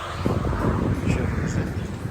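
Gusty wind buffeting a microphone outdoors beside a Kawasaki Z1000SX motorcycle in Bavaria, a steady low rumble with uneven bursts throughout.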